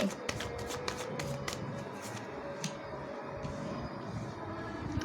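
Tarot cards shuffled and flipped by hand at a reading, a series of soft, crisp riffles and slaps close by, scattered through the stretch over a low background murmur.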